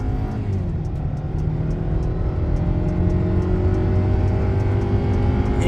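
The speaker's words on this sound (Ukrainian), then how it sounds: "Зараз ми з вами стартуємо від нуля до сотні, їдемо ми в горочку і в поворот." A 2018 Hyundai Sonata SE with a 2.4-litre automatic accelerates hard from standstill toward 100 km/h uphill into a bend, engine drone rising steadily in pitch, loud and close from inside the cabin.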